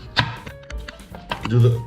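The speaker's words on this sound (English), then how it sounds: "We're just chopping this up real easy." A knife chops soft apples on a cutting board in a few quick, close, crisp strikes with a short pause between them.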